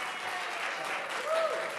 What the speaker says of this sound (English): The NIMBY's clapping.